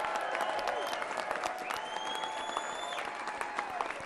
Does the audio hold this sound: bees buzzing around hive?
no